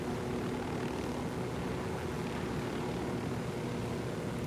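A helicopter flies in the video game Ghost Recon Wildlands, giving a steady, loud, broadband rotor-and-engine drone that holds unchanged throughout with no talk.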